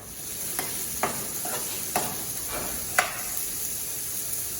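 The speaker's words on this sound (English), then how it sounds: "So we're gonna add the pancetta with a drizzle of olive oil." Pancetta sautés in a drizzle of olive oil with a constant close sizzling hiss, punctuated by several brief scraping stirs.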